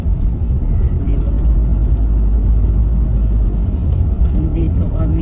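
A car cruising along a highway near Santa Cruz, Laguna, giving a steady, loud low-frequency road and engine rumble throughout, with people talking over it.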